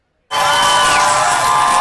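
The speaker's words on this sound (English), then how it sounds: "Cheers erupting across Israel" A large crowd in Israel bursts into loud, sustained cheering and shouting as the last living hostages are released, starting abruptly after a brief silence and holding at full volume.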